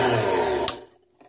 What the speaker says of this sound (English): and drill that hole. Turn on your drill press.